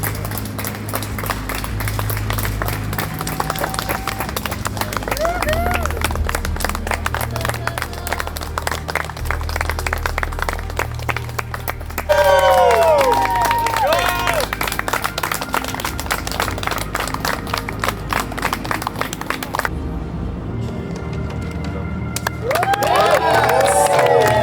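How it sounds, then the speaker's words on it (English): Crowd applause and cheering ring out for a runner at a fitness race event, loud and continuous with shouts and whistles rising over steady background music and busy chatter. "Let's get a round of applause for 21."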